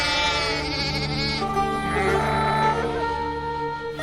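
Sheep and goats in a large travelling herd bleat together, their overlapping, close, loud cries running continuously for the whole stretch with no pause.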